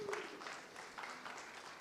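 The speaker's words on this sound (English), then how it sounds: "can we give a round of applause for Sashay?" A festival audience at an arts and culture event claps for performer Sashay, fairly faint, distant-sounding applause with a scattered, uneven texture throughout.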